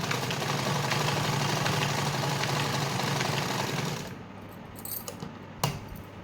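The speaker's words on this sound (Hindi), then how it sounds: "अब मैं इसको नॉर्मल जैसे सिलाई करते हैं वैसे ही सिलाई करूँगी" A sewing machine stitches a lined blouse in a steady, fast mechanical whir for about four seconds, then stops, leaving a few light clicks and taps of fabric handling.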